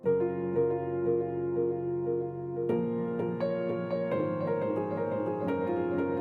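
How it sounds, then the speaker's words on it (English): Solo piano plays a steady sequence of sustained chords and notes, close and moderately loud, with new chords struck every second or so. "the original piano, which sounds like this"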